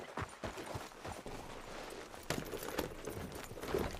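Horse hooves clip-clop steadily at a walking pace in Red Dead Redemption 2, a close, moderately loud rhythmic series of hoof strikes with faint ambient game sound behind them and no talking.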